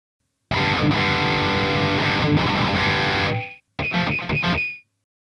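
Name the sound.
electric guitar through distortion pedal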